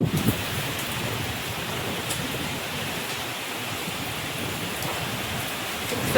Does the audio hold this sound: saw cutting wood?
no